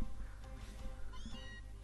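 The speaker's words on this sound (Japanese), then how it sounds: "野生のニャースが飛び出してきた。" Meowth's cry in Pokémon Let's Go Eevee: a brief, rising and falling synthetic meow set over steady game music and sound effects.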